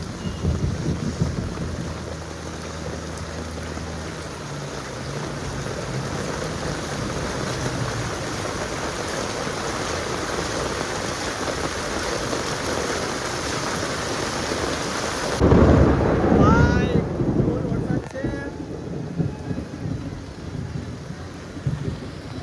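Heavy rain pours down over Pasodara village, a dense, loud, continuous hiss on surfaces, broken near the end by a close rumbling thunder burst that swells and fades.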